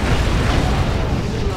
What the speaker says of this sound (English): Plasma cannons roaring,